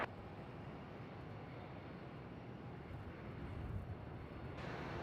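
A jet aircraft roars with a steady, broad rumble as it takes off from runway 27 at Melbourne Airport, distant and continuous with no talk.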